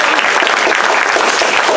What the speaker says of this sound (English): you all really deserve that round of applause